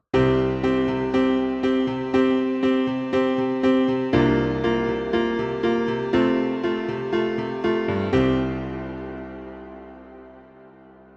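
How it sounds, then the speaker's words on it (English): Piano playing steady repeated chords drenched in a long, shimmering reverb from the Reverbical plugin, the final chord left to bloom and fade slowly into a washed-out tail. "Using a reverb with a longer tail and a bit of shimmer"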